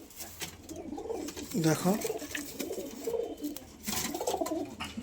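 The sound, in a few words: pigeons cooing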